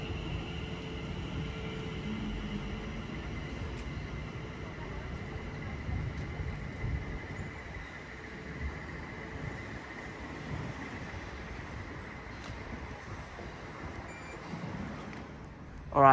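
A Class 710 electric train, unit 710-269, pulls away toward Barking Riverside at Harringay Green Lanes, a steady low rumble and rolling noise held at constant loudness throughout, with wind buffeting the microphone.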